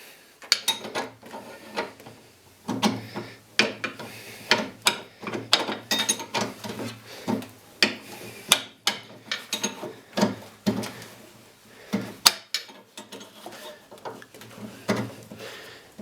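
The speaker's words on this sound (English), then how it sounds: "Again with the 3/4 inch wrench." A 3/4 inch wrench tightens the aluminum fittings of an adjustable brake proportioning valve, giving a steady run of close metallic clicks and ratcheting ticks with small knocks and brief pauses.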